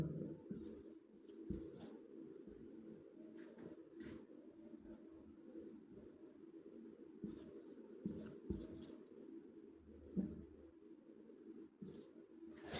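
A teacher writing a sentence on a classroom board, quiet continuous scratching strokes with brief pauses and taps, faint and alone.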